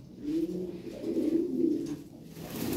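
A thick-beaked pigeon coos close by in low, throaty, rolling phrases that repeat over about three seconds against a faint background hum, with no talking.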